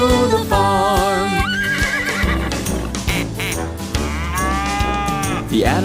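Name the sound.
farm animal sounds: cow moo, duck quack, horse neigh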